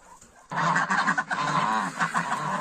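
Loud honking and squawking calls from Rouen ducks and turkeys, overlapping and continuous after a quieter start, close by in a farmyard.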